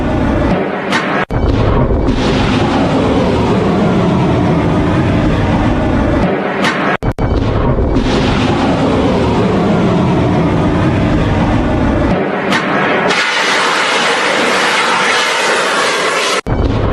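Bomb explosions from a Houthi attack on the Red Sea make a loud, sustained booming roar that fills the whole span, broken by a few abrupt cuts.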